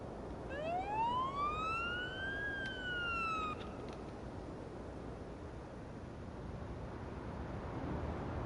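A video game ambulance siren wails once, rising and then falling before cutting off, over a steady bed of engine rumble and noise.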